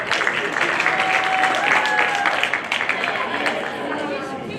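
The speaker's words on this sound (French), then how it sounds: "On appelle maintenant Kadjo, on applaudit pour Kadjo" Audience applause and cheering at a school quiz show as a contestant is called up, a dense steady clapping with excited crowd chatter and shouts mixed in, fading slightly toward the end.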